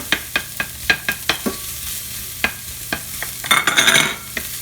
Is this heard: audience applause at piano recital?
no